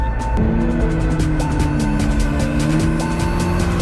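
A McLaren MP4-12C driving through a canyon, its engine droning loudly and steadily from close by with whistling turbo spool tones rising and falling throughout.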